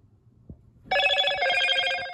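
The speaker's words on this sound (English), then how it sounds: "I got a notification from my phone that it ringed" A phone rings loudly with a notification chime when a Targus wireless folding keyboard pairs, a sustained bright electronic ring that starts abruptly after a few soft taps and holds to the end.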